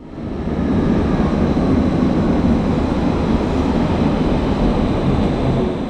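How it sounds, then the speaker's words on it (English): A steady, loud rumble of an old Berlin S-Bahn train arriving at Wittenbergplatz station, with broadband rail noise holding constant throughout and no voices. "And here we can see my train arriving at Wittenbergplatz."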